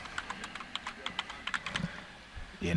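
Rapid, uneven keystrokes on a computer keyboard, close and fairly quiet, clicking in short bursts while entering a labor rate into shop software.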